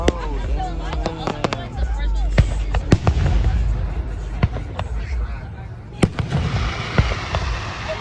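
Juneteenth fireworks go off outdoors in a rapid series of sharp bangs and crackles, some close and loud, with a steady rumble and voices in the background.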